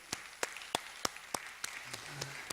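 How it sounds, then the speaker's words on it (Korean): A church congregation claps in a steady, even rhythm at an Easter Sunday service, about three claps a second, fairly faint, with a soft murmur of voices near the end. "우리 하나님께 감사와 영광의 박수 올려드리겠습니다."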